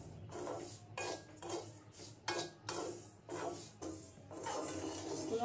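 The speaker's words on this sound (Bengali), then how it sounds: "সুজিটা এখন আমি ভেজে নেব।" Pulao rice semolina being fried in a pan, with repeated scraping and stirring strokes of a utensil against the pan in an uneven rhythm, fairly quiet and close.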